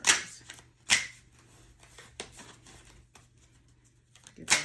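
Tarot cards are shuffled in several short, crisp riffling bursts, close and fairly faint, separated by quiet pauses and lighter card taps.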